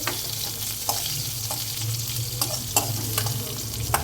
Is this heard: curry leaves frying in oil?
yes